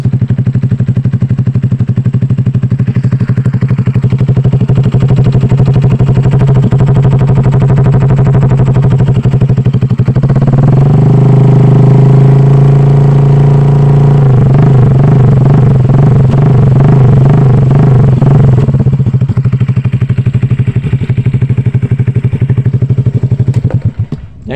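A 2023 Honda Vario 125 scooter with an aftermarket exhaust idles loudly with a deep, throaty note, then revs up and down several times before settling back to idle.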